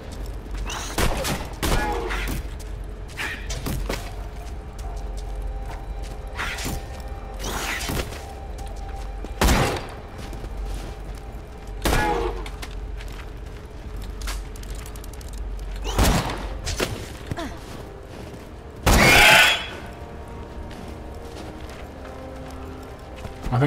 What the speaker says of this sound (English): People are shooting.